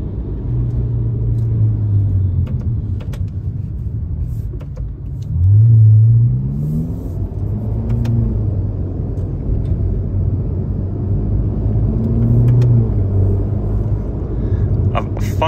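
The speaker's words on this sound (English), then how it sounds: "you're driving the Ferrari for the first time" A Ferrari Roma engine hums steadily at low revs while driving, with a brief swell of revving midway, a continuous close rumble heard under people talking in the cabin.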